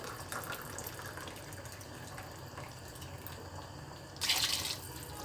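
Hot water is poured into a pot of vegetable stew made with zucchini and purslane, with a short bright splashing burst near the end over a quiet kitchen background.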